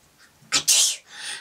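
A single loud sneeze up close, a quick intake of breath followed by the sharp burst and a trailing exhale.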